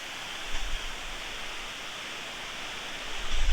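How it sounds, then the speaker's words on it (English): A waterfall in downtown Chicago, heard as a steady broadband rush of falling water that carries on unbroken at a moderate, even level. "Pretty cool waterfall."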